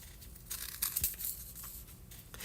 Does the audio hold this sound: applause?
no